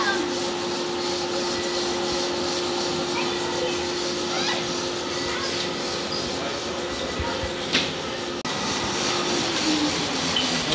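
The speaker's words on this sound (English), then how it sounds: "You see the propeller spinning?" A model airplane propeller spins during a thrust test, a steady loud whirring drone that holds throughout with little change, with voices faintly present underneath.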